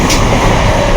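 The Mangaluru Central–Yesvantpur express rumbles steadily into Kannur railway station, a loud, even broadband roar of moving carriages with no voices.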